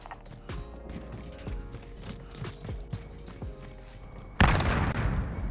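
Mechanical clicks of a weapon being reloaded in the Modern Warfare video game, a series of sharp metallic clacks followed near the end by a loud burst of gunfire.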